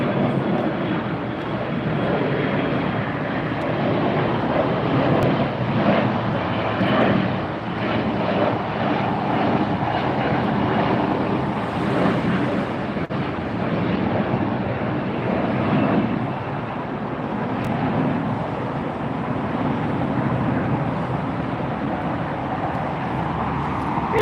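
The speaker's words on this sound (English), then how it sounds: "There goes the departure. United Airlines heading off." A United Airlines jet departing from LAX sends out a loud, steady engine roar that holds for the whole stretch with only slight swells.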